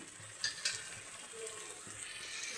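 A spoon stirs paneer curry with yogurt, salt and a little sugar in a pan, giving a soft continuous sizzle with a few brief scraping knocks near the start and no talking.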